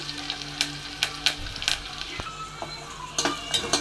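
Onion tempering for a moong dal and fenugreek leaf dish sizzles in a pan as a spoon stirs it, giving a soft frying hiss broken by repeated sharp metallic scrapes and taps.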